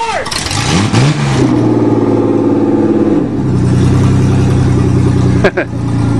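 A Ford Ranger with a 2.9 engine revs hard during a smoky burnout contest. The loud engine climbs and drops, then holds a high, steady roar with a harsh tone, and voices can be heard over it near the end.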